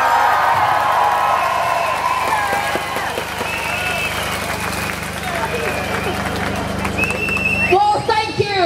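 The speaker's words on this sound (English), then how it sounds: "Please give a massive round of applause and warm welcome to Natalie Bennett." Crowd noise at an anti-austerity march in Sheffield, a steady wash of applause and cheering from a large outdoor gathering that holds throughout and swells briefly near the end.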